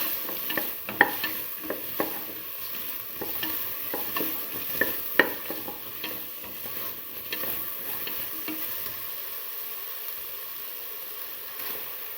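Salted tomato pieces being stirred into a lentil stew mixture, a continuous soft wet sizzle with frequent light scraping strokes, close and steady, easing off toward the end.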